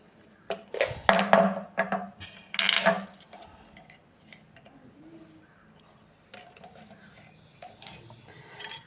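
A spoon clinks and taps against a bowl while beaten egg is stirred with coconut, salt and pepper, giving irregular close knocks, busier at first, then quieter scraping.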